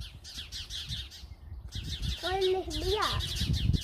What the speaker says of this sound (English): The bird's right at the top, being very noisy.